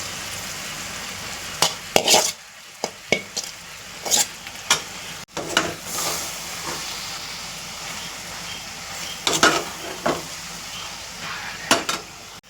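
Boiled, mashed potato is stirred into a frying mixture in a pan, with a steady sizzle broken by repeated scraping strokes of the spoon at an uneven rhythm. The cooking is close and there is no talk.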